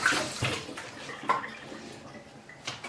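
Kitchen items being rinsed under running water at a sink during a deep clean, with a soft wash of flowing water, faint splashes and a few brief clatters, quiet and close, with no talking.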